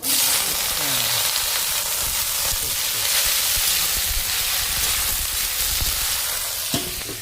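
Pumpkin flowers going into a hot frying pan set off a steady, loud sizzle and hiss, with stirring clatter underneath, continuing evenly throughout.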